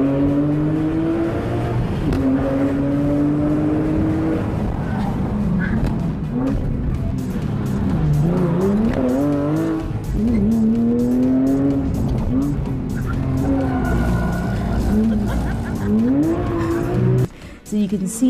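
A Porsche driven hard, its engine droning loudly and shifting pitch under sustained, wavering tire squeals throughout, with a brief drop-off at the very end.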